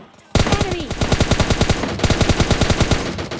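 Rapid automatic M4 rifle fire in the mobile battle royale game PUBG Mobile Lite, loud close bursts of evenly spaced shots with a brief break mid-way before firing resumes.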